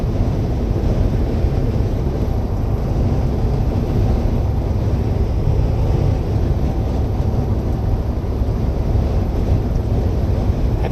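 Strong gusting wind buffeting a truck cab while driving, a dense, unbroken low roar and rumble of wind and road noise filling the whole stretch at a constant, heavy level with no voices.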